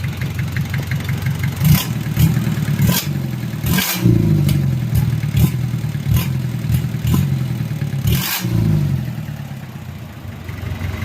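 A Mitsubishi 4D30 diesel engine, run on an assembly stand without coolant after a timing-gear job, idles loudly with a steady knocking hum. Several sharp revs rise and fall in bursts, with no talk.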